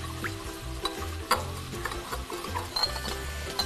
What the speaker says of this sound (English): I'm gonna just mix that up so that my sugar dissolves